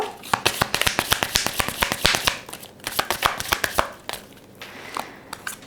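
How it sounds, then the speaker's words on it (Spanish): Cards are shuffled repeatedly up close, a rapid crisp riffling and snapping that comes in bursts with brief pauses. "Vamos a barajar"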